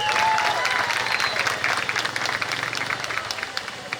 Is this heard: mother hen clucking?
no